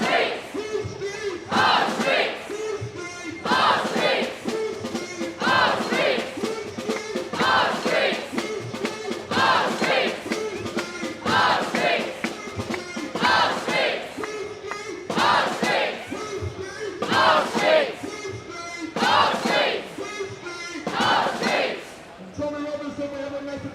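A protest crowd outside the Reform UK headquarters in London chants in loud rhythmic bursts, repeating phrase after phrase in steady waves with brief gaps between them.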